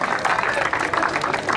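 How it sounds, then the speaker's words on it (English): Brief burst of crowd applause at a pancake race, dense clapping from a gathered outdoor audience lasting under two seconds with no pause. "So a big round of applause for them."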